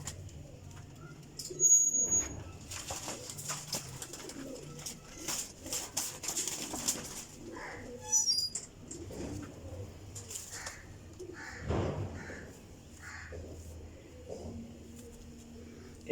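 Year-old pigeons raised this season, with soft cooing and occasional rustling or wing flutters across a quiet stretch, moderately near, without talk.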